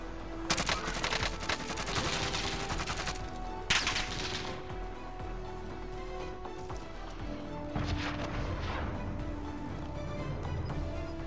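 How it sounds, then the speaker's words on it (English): Shootout in a video game, with rapid bursts of automatic gunfire early on and again around the 4 and 8 second marks over steady game ambience. No one speaks. "they're shooting me, shoot at them"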